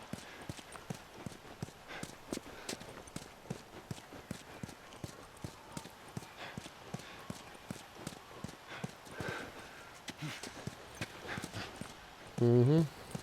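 Horse hooves in The Last of Us, a steady rhythmic clip-clop of a walking horse across the whole stretch, fairly close, with a short burst of talk near the end.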